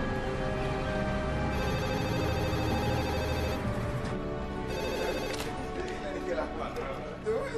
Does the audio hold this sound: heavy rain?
no